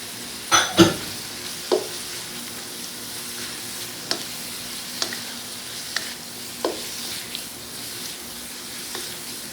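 Shrimp fried rice with seasoning is stirred in a hot pan, sending out a faint sizzle under several sharp scrapes and knocks of the utensil, loudest at the start and spaced out after that.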